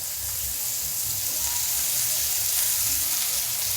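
Dried Bombay duck (bombil) sizzles steadily in freshly poured oil for a chutney, a continuous bright frying hiss that stays loud and even throughout, with no talking.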